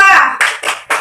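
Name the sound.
rhythmic hand clapping in an ice-breaking clap game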